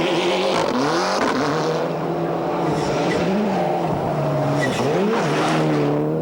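Rally cars at the 1996 1000 Lakes Rally in Finland, a factory Toyota and a Ford, race past with engines droning and revving, pitch rising and falling through gear changes, loud and close throughout.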